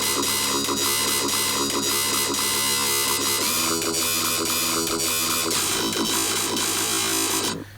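Dense dubstep synth tone with the ring modulator removed, a buzzy harmonic-rich growl with rhythmic pulsing over a steady low hum, loud and continuous for several seconds before cutting off.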